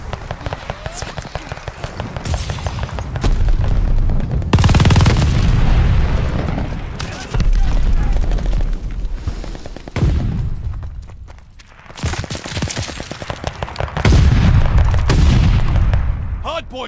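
Heavy gunfire and booming explosions around a hardpoint in Call of Duty: Vanguard, loud rapid bursts and repeated blasts in waves with brief lulls, close and chaotic, with occasional voice callouts over the combat.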